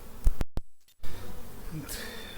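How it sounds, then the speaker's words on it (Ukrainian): Honey bees swarm over a brood frame just set into a hive, a dense steady buzz running through with a few sharp knocks and a brief dropout near the start. "Рамку з розплодом тільки поклав і вже бджолою покривається вся рамка."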